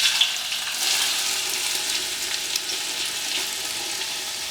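400 grams of chopped onions hitting hot ghee in a pan, a bright, dense sizzle and crackle that holds steady for several seconds with small bursts, close and fairly loud, no voices.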